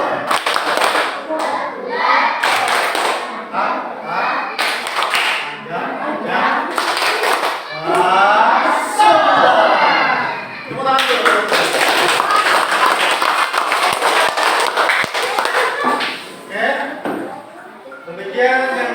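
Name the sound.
schoolchildren doing tepuk bang clapping routine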